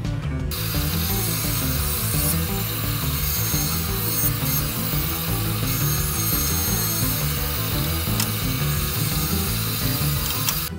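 Wood pieces being sawn for a shop-built mobile tool base, a continuous loud rasping cut with steady machine hum running throughout, close and uninterrupted with no talk.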